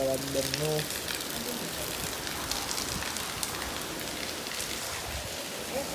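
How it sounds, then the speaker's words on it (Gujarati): Heavy rain with wind in Nadiad pours steadily in a dense, even hiss, with a brief tonal sound at the very start. "ધોધમાર વરસાદ ચાલુ છે"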